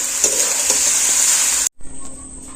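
Egg masala pasta frying and being stirred in a pan gives a steady close sizzle with a few soft scraping strokes, then cuts briefly to a quieter, thinner sizzle.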